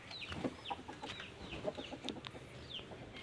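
Chickens and hens in a home garden cluck in scattered short calls over a steady outdoor background, with a few sharper bird calls mixed in.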